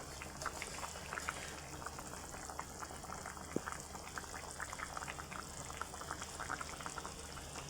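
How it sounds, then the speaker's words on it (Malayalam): Sardine curry with chili, ginger and garlic boils in a pan, giving a close, steady bubbling and popping that stays even and fairly quiet throughout, with no talking. "അപ്പോൾ നന്നായിട്ട് തിളയ്ക്കുന്നുണ്ട്."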